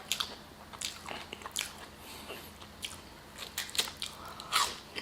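Close, crunchy bites and chewing on Arby's curly fries, with repeated sharp crunches spread irregularly through the bite, faint and intimate with no talking.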